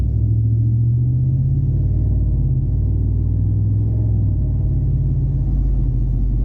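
A GMC Sierra Denali truck with a muffler-delete exhaust, resonators left in place, rumbles steadily at a deep, loud idle, with a low throaty drone and slight variations in tone throughout.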